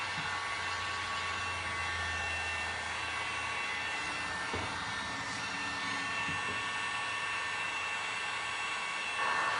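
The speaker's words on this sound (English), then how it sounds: "this heat gun is you have 2 speeds, high and low, but you also have variable temperature" A two-speed, variable-temperature heat gun blowing hot air to dry resin over glass, a loud steady whooshing blower roar held the whole way through, close by, with no talking.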